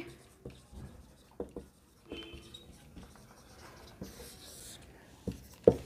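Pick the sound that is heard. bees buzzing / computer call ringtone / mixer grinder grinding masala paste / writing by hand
writing by hand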